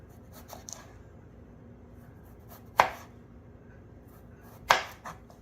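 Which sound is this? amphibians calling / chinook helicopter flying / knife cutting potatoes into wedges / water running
knife cutting potatoes into wedges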